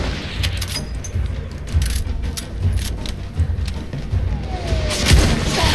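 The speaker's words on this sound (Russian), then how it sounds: "Тут ну, по мне стреляют." Scattered gunshots and booms in Battlefield 1 crack out at irregular intervals, some sharp and near, others duller, over a low continuous background rumble.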